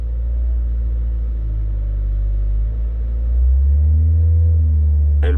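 A car engine with a faulty turbo or air metering judders and hunts as it drops back to idle, a loud, close, uneven low rumble that swells and wavers throughout, alone without voices.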